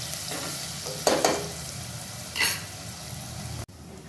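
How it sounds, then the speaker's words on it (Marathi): Steady sizzling of onion frying in oil over low heat, with a couple of brief scraping stirs of a spatula in the pan. "आपल्याला हा कांदा त्याच्यामध्ये परतून घ्यायचा आहे आणि मंद गॅसवरच परतायचा आहे"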